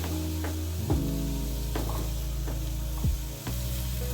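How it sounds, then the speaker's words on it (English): Apples cooking in butter in a pan are stirred with a few sharp utensil knocks against the pan over a steady sizzle, close and alone, with no one talking. "Now I'm going to give the apple a stir."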